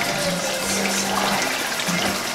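Tap water runs steadily into a barbershop sink while warming up, a continuous close, full splashing rush with no voices.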